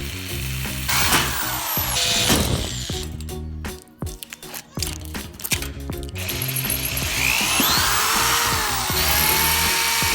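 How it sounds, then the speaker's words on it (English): Power drill boring a hole through a Weber Smokey Mountain smoker lid, a loud whining grind with rattling ratchet-like chatter, pausing briefly midway before drilling resumes, close up. "You're going to want to use at least 3 drill bits to step your way up to a 1/4 inch hole."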